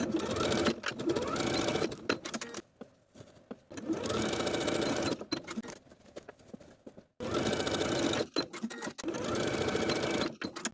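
A home sewing machine runs a narrow zigzag stitch, about 0.5 wide and 2.5 long, to attach elastic at the seams of a shorts waistband, in three loud sustained bursts separated by short pauses.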